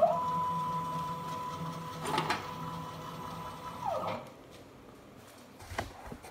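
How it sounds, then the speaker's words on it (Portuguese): A CNC router being jogged back to its corner during calibration of belts, pulleys, lead screw and rack gives off a steady motor whine for about four seconds, with a brief clatter midway, then cuts off to a quiet room. "Vamos voltar a máquina ali pro cantinho."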